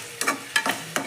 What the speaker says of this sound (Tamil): இதையும் நல்லா வதக்கிக்கலாங்க